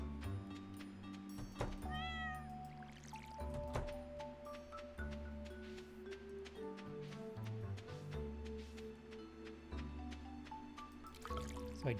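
A cat meows repeatedly in the Stardew Valley farming game, with short rising and falling chirpy cries over a bright looping game music track and water-droplet sound effects, fairly quiet overall.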